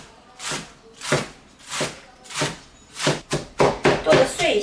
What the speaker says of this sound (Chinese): 咱们把小白菜给它切一切